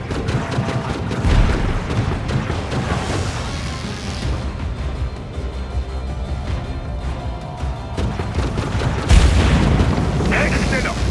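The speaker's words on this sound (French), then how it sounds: "Maintenant, ouvrez le feu pour détruire la tourelle et le vaisseau." In The Falconeer video game, gunfire and heavy booming explosions strike a turret and a barge, a dense, loud barrage that swells at moments, with speech mixed in.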